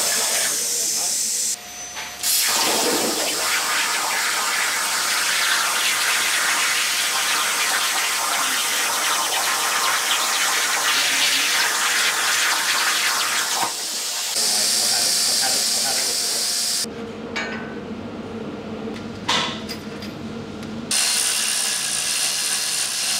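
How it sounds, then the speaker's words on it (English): Plasma table cutting a steel front bib mount in a workshop, a loud steady hissing roar with mechanical clicking that runs almost throughout, briefly cutting out and changing tone near the end. "before cutting out a front bib mount on the plasma table"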